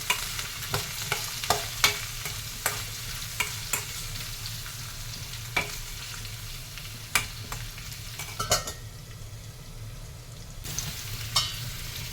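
Carrot pieces frying in oil on medium flame for a pickle, a steady close sizzle with scattered sharp pops and crackles throughout, no voices.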